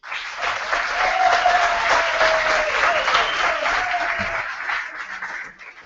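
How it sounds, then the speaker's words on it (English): A student election audience applauds steadily for several seconds, a dense wash of clapping that holds level before tapering slightly at the end. "So let's give a round of applause to each team."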